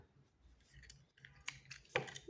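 Scissors cut knitting yarn for a baby's cap knit on two needles, giving a few quiet close snips and clicks that end in one sharper final cut, with no talking during the cut.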